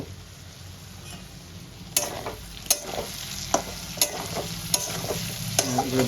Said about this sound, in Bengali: আমি এরকম কটা গোটা রসুন দিয়ে দেব